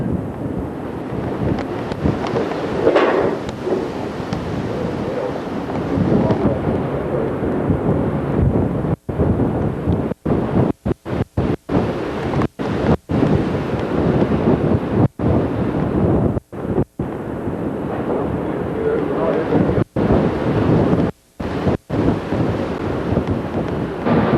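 Steady wind rumbles and buffets across the microphone on an upper deck of a cruise ship in Alaska, a constant broad roar with no talking, broken by a few brief dropouts.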